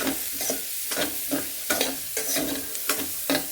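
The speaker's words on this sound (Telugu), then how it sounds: "ఆ ఫ్లేవర్స్ అనేవి వీటికి పట్టాలన్నమాట ఇది మంచి ఫ్రై అవ్వాలి" Coriander and cumin seeds fry in a pan while being stirred, making a crackling sizzle broken by about eight rhythmic scraping strokes, close up and heard without voices.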